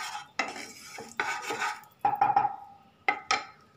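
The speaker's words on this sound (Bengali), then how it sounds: "এটাকে ভালো করে জলে তেলে মিশিয়ে নিলাম" Half a teaspoon of turmeric powder being stirred into water and oil in a pan with a spoon. Several distinct scraping strokes against the pan come in short bursts with pauses between, close and clear with no talking.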